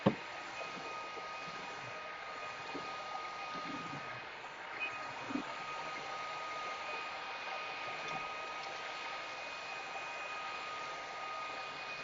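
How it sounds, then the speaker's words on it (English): A cordless vacuum cleaner runs with a steady, even motor whine while picking up spilled garden soil from an indoor floor. Constant and close, with a few faint bumps and no speech over it. "So it's actually vacuuming up the dirt soil pretty well."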